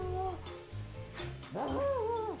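A cartoon dog in the SPY×ANYA: Operation Memories video game gives a few short yips and barks, ending in a higher whining bark, over soft game music.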